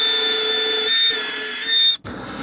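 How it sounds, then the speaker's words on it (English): A GoingMake power drill whines steadily as it bores through a wooden dowel, its loud, tonal motor hum holding for about two seconds before cutting off abruptly, with no talk over it. "let's see how easy this will drill into a dowel"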